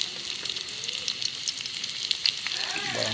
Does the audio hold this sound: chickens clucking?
no